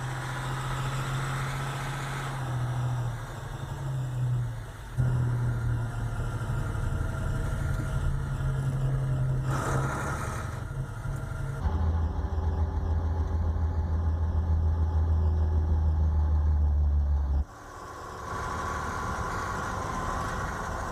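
A large diesel engine of a Faune military truck idles steadily with a deep low rumble, its pitch shifting slightly as it revs, with no voices present.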